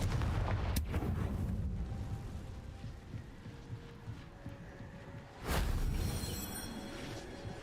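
A Confringo fire spell blasts in Hogwarts Legacy, with a booming burst at the start and a second heavy blast midway, each followed by a rumbling roar, loud and near against steady game ambience.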